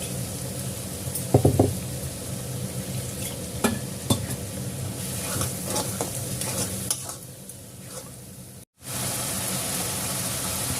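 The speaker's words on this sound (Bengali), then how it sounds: "এবার দিয়ে দেবো আদা আর কাঁচা লঙ্কা পেস্ট।" Ginger and green chili paste dropped into hot oil with fried garlic in a pan, a loud burst of sizzling followed by continuous crackling and spatula stirring, with a brief dropout near the end.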